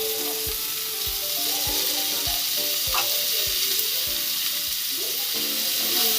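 Chopped spinach fries with onions in a pan, a constant close sizzle with regular soft knocks of a stirring spoon throughout.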